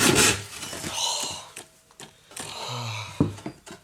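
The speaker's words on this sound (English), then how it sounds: "I forgot about the sawing part." Rough rasping strokes of a hand saw cutting wood, several uneven back-and-forth passes with short pauses and a few knocks, close by.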